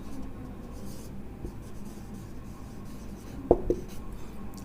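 A pen scratches steadily on paper or a board during a chemistry lecture, quiet and close, with a couple of sharper taps near the end and no talking.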